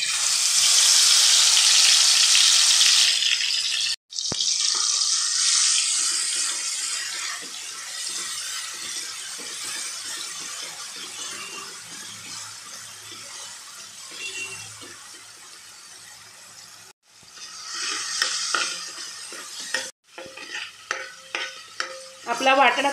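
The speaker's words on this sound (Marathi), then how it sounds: "आपला वाटण आता चांगला परतून झाला" Green masala paste hitting hot oil in a pot for a Bombil (Bombay duck) curry, a loud steady sizzle that gradually fades, broken by cuts, then stirring and scraping strokes with renewed sizzling near the end.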